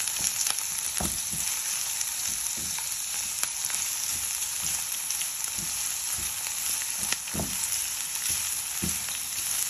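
Sausage for yaki udon sizzles steadily in a hot pan while being stirred, a continuous loud crackle with occasional scraping taps of the utensil, close up and without speech.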